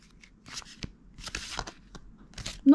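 A new Karmic Life tarot deck shuffled by hand, producing short crisp riffles and soft card slaps up close, in several quick bursts over a quiet background.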